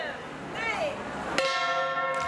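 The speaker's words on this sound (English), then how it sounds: "go towards the gong in front of the store and bang the gong" A single loud metallic gong strike rings out partway through at a store grand opening, leaving a long sustained shimmering tone, after background voices and crowd murmur.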